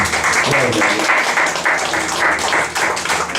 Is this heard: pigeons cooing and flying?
no